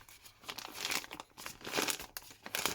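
Plastic resealable pouch from a DJI Mic Mini wireless microphone kit crinkling and rustling up close in several quick handling bursts, alone and fairly quiet.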